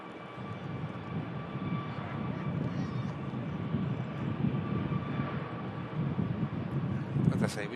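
An aircraft rolls along runway 23 at Manchester Airport with a low, steady engine rumble heard from a distance, building slightly over several seconds, with faint voices underneath.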